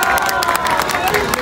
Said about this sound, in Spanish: Vamos a despedir con aplausos a esta gran unidad educativa